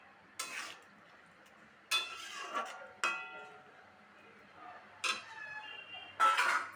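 Lentils and soaked sago being stirred together in a cooking pot, with a handful of scraping, clinking spoon strokes spaced a second or so apart, close and moderately loud.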